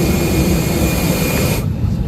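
Jet aircraft engine roaring steadily and loudly while passengers board a plane, a continuous broadband rumble that drops in level partway through, as if a door or cabin wall muffles it.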